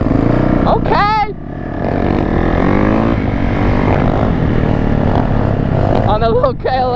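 Kawasaki KLX 110 dirt bike revving at a busy lot, a buzzy engine whining up and down in pitch beneath close, loud chatter from people nearby.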